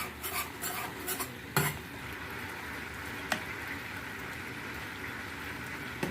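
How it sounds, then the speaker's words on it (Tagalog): Soft, steady stirring of ube and sugar into a cassava mixture, with faint scraping and a few light clinks of a utensil against the bowl, heard alone and quietly up close. "Mekos-mekos natin. Mekos-mekos."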